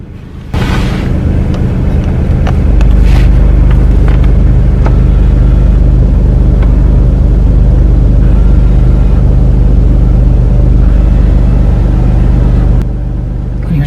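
Blower and small air door actuator motors in a GM Impala's dash running with the AC switched on, a steady loud whir and rumble held evenly for most of the span before dropping off near the end.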